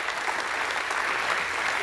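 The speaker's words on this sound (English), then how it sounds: "give God a hand clap of praise this morning" Church congregation clapping hands in praise during a Sunday morning service, a dense, steady wash of applause from many people throughout.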